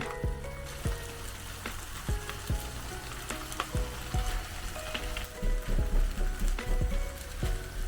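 Leftover rice frying in a hot pan with leftover Andong Jjimdak braised chicken, a steady close sizzle broken by repeated sharp scraping clicks of a utensil stirring against the pan.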